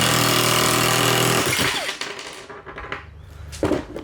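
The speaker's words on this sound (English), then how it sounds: "This is the strongest electric impact I got." A powerful electric impact wrench drives a bolt down, giving a loud, dense hammering rattle for about a second and a half before it cuts off into quieter clatter and scattered knocks.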